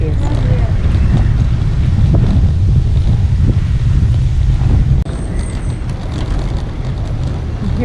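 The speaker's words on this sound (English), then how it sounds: "And hopefully we'll dump this headwind." Headwind buffeting the microphone of a cyclist riding on a road, a loud, steady low roar of wind rumble throughout, easing slightly partway through, with a voice speaking under the noise.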